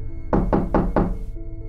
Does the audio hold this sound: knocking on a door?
yes